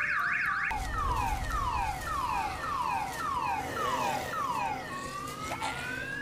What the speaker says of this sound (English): He sets off the world's loudest car alarm